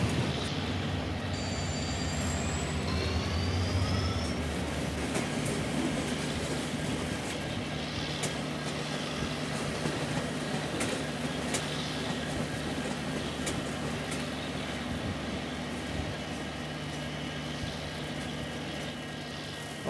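A simulated passenger express train in Trainz Simulator rumbles along with a low, steady mechanical drone and faint high squealing tones as the brakes are applied, continuous and moderately quiet throughout.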